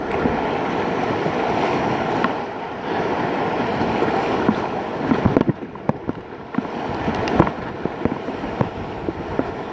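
Whitewater on the upper McKenzie River rushes past a kayak, a continuous loud roar with splashes and sharp paddle knocks that grow busier toward the end. Heavy wind buffets the microphone, and there is no talk.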